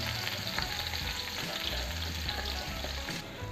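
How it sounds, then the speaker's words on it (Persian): Sliced onions fry in a pan for Shirazi ghanbar polow, a steady close sizzle and crackle of oil running throughout with no talking. "پیاز رو خلالی خورد کردم، میریزم و سرخشون میکنم"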